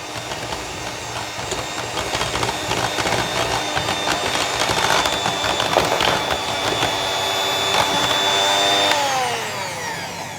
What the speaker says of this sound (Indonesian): Ini kita mixer lagi sebentar aja.